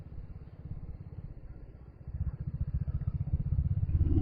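A Royal Enfield Hunter 350 motorcycle riding along a mountain road, its low thumping engine pulses steady and close, swelling louder toward the end as the rider accelerates, with no talk over it.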